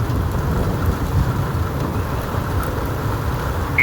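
Hail and heavy rain pounding a police cruiser during a storm, a loud steady roar of impacts on the car body with no break and no talking.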